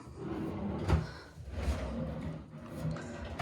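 Bathroom cabinet drawers in a home-built vanity slide open and shut in a few close, muffled thumps and rolling rumbles, with no one talking.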